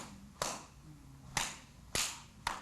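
Four crisp hand claps at uneven spacing, with long gaps at first and then quicker, irregular strikes, each a sharp single smack close by.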